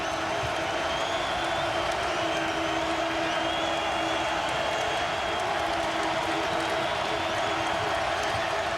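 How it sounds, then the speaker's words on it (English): A college basketball crowd at a Cincinnati Bearcats home game against West Virginia roars steadily, with cheering and applause forming a dense, continuous wash of noise throughout, while a commentator talks over it. "Most in the crowd now on their feet in support of the Bears."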